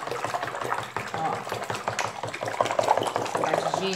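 A homemade fabric softener of massage cream and water is stirred steadily in a container, with a continuous swishing and scraping churn up close and a voice talking at times.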